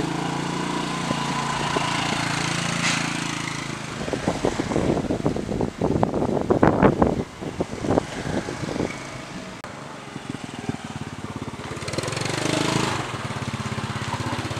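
2008 Yamaha Mio Sporty scooter on a test ride, its small engine droning and rising and falling as it accelerates and slows, with wind buffeting and a nearby rumble over a short stretch.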